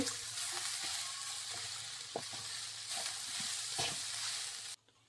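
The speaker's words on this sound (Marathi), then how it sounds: "आता चवीनुसार इथं मीठ घालून घ्यायचंय आणि भाजी परतून घ्यायची" Hyacinth bean vegetable with tomato and salt sizzles steadily as it is stir-fried in a pan, with a spoon scraping and tapping at irregular intervals before the sound cuts off abruptly at the end.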